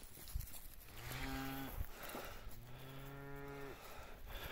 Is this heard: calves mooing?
yes